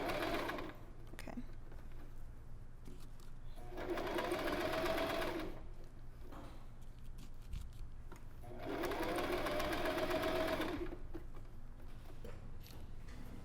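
A sewing machine stitches along the folded edge of a dress sleeve, its motor whirring steadily with two louder, faster runs of stitching separated by a quieter stretch.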